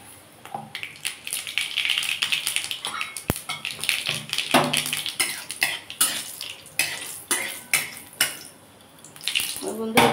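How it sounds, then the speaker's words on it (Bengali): Dry red chillies and mustard seeds tempering in hot refined white oil in a kadai, a dense, steady crackle with sharp popping spits throughout. "তেলটা গরম হয়ে গেছে। আমি একটু শুকনো লঙ্কা আর একটু সর্ষে"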